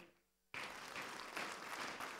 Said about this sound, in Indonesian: Kun Tosit, tepuk tangan.